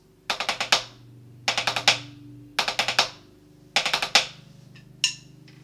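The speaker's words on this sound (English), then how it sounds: "So the next section is going to be focusing on 5-stroke rolls." Snare drum playing five-stroke rolls: four evenly spaced groups of quick crisp strokes, each ending in an accented hit, close and clear, then a final single stroke, with no talking.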